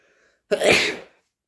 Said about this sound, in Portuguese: Pera aí, vou espirrar.